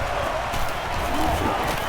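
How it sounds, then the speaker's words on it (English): Steady stadium crowd roar from an NCAA Football 09 game fills the background, a dense continuous wash of distant voices with faint cheering swells and no distinct single sounds. "The crowd really making it difficult."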